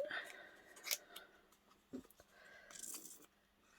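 Scissors trim the edges of a pink floral paper mat for a handmade mini album, with a few quick, crisp snips up close and quiet handling noise between cuts.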